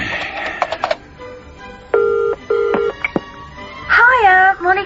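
A telephone in a radio drama rings in two clear, loud tonal bursts, framed by other electronic tones and a voice at the end.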